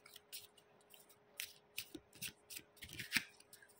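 Tarot cards shuffled and drawn by hand, a faint, close series of quick riffling flicks and soft slaps with no voice over them.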